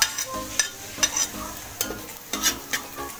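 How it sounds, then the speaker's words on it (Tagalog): Garlic sizzles and fries in a pan while being stirred toward brown, with repeated clinks and scrapes of a utensil against the pan at an uneven rhythm over a steady background crackle, close and fairly quiet. "Kailangan natin mag-brown ng ating garlic."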